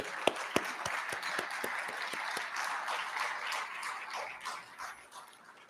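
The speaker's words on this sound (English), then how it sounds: "Let's give him a round of applause." Audience at a college of engineering end-of-year celebration applauding, a fairly soft, distant wash of clapping with a few sharper nearby claps standing out early, fading slightly toward the end.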